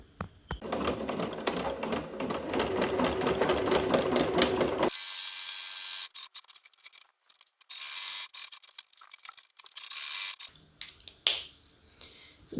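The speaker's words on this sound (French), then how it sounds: "On va passer un point droit tout du long sur le premier côté et sur le deuxième côté" A home sewing machine runs a straight stitch along fabric lining, a fast steady whirring rattle for several seconds, then shorter bursts of stitching and clicks of the machine being handled, close and clear.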